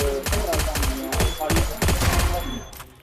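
Rapid gunfire from the Free Fire battle royale video game, with dense overlapping shots in quick bursts that stay loud and close throughout, fading slightly at the end.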